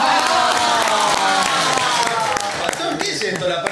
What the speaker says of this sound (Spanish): Un fuerte aplauso para el pastor y para Juancito por este programa.